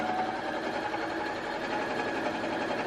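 A sewing machine runs steadily while stitching in the ditch around a quilted hot pad. The needle keeps up a continuous, even whirring rattle for the whole moment, close by and moderately quiet.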